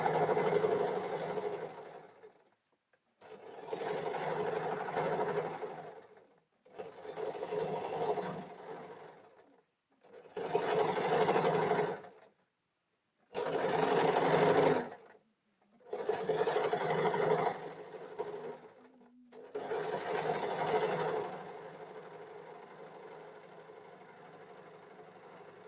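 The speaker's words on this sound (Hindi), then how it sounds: "पट्टी को फिनिशिंग से फोल्ड करने के लिए हमें यहाँ इस पर इस तरीके से दाब वाली एक सिलाई लगानी" Sewing machine running close up, stitching a folded finishing strip on a princess-cut blouse. It whirs in seven steady bursts of about two seconds each, separated by short pauses, with no talk.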